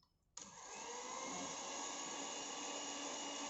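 A mixer starts abruptly and settles into a steady, loud whirring drone while kneading noodle dough of flour with alkaline water and salt, running continuously with no talk.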